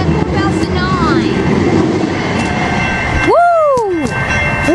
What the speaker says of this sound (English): here comes the Southbound Green Line Trolley about to come into Santa Fe Depot